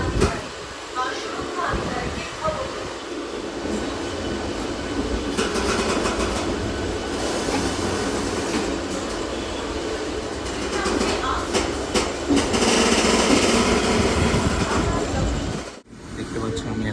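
A train rolls into Howrah station, a steady rumble with rhythmic clicking of wheels over rail joints, heard from on board with a voice talking over it and a brief break near the end.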